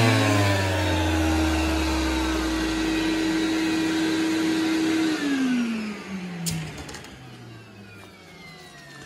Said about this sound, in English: the extractor runs for about 5 to 6 seconds after the tool stops to clear the dust out of the hose